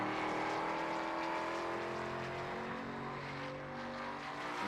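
Race car accelerating hard on the Watkins Glen track during qualifying, a loud, sustained engine roar with rising and shifting tones that holds steady throughout and fades slightly near the end, with no voices.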